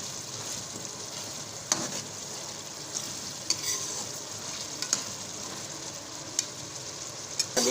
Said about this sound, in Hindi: इसके साथ ये भी अच्छी तरह भून जाएगा